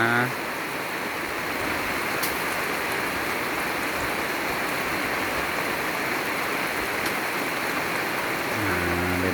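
Heavy rain pours down in a dense, even hiss that stays steady from start to finish, with no breaks.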